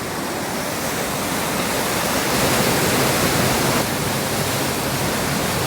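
A creek swollen by three days of rain rushes past in a dense, steady roar of water, loud and close, with no pauses or other sounds standing out.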